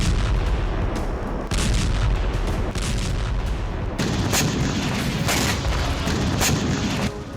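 Heavy artillery fire and explosions from the Russia-Ukraine war form a dense, continuous roar with repeated deep booms and sharp cracks throughout, loud and close, with no voices.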